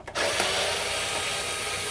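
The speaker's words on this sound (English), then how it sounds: "go ahead and unscrew the back screw" A power screwdriver backs a screw out of a stove's electrical power board, a close steady whirring motor whine running nearly two seconds after a brief start.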